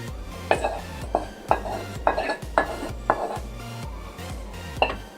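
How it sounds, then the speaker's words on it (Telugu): A utensil scrapes and taps against a plate while mango papad mixture is spread thinly, giving a series of regular, close clinks and scraping strokes with no talking. "సో ఇలాగా ప్లేట్లో వేసేసుకొని ఇలా స్ప్రెడ్ చేసేసుకోవాలి."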